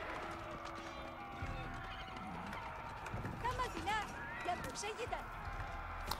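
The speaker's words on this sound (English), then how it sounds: "Horse archers arrive." Horses in Age of Empires 4 as horse archers ride in: galloping hoofbeats and whinnies mixed with game battle noise, moderately loud, under a commentator's continuous talk.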